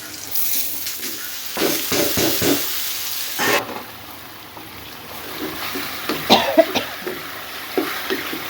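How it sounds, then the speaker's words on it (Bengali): Jute greens frying in a pan with a steady sizzle, broken by a few coughs and occasional stirring clatter; the sizzle brightens in the second half. "শাক ভাজি হচ্ছে"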